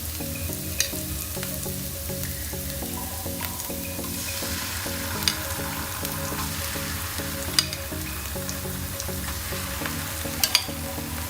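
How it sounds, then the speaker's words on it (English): Tomato sauce sizzles in a hot pan for penne arrabbiata, a sustained even frying hiss with a regular stirring rhythm and a few sharp metallic clicks, no talking. "Now we can add our tomato sauce."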